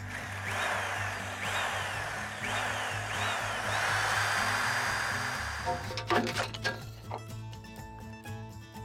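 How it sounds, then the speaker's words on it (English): A power drill whines in short repeated bursts drilling out old rivets on an RV slide awning, then metallic clattering and scraping follow as parts come loose. "So you just drill those out."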